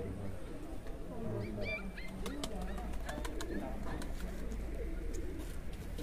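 Racing pigeons land and coo at a loft on a hot day, with soft repeated cooing and some chirps up close, over a steady low background hum while someone talks.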